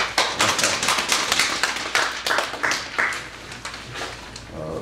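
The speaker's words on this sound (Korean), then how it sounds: "여러분, 여러분 박수 한번 쳐보세요" An audience at a Korean poetry literature lecture claps, producing a dense, steady patter of many hands that runs for about five seconds and fades slightly near the end.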